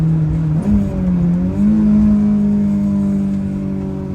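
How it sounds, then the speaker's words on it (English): Honda S2000 engine revving through a couple of downshifts, a loud close drone with quick pitch blips as each gear drops, then settling into a steady hum. "That's a couple downshifts."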